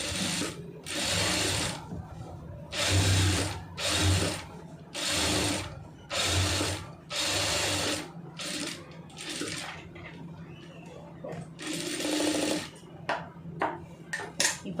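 A tailoring sewing machine stitches a neck design on cloth in repeated whirring runs of a second or so, separated by short pauses and fabric handling.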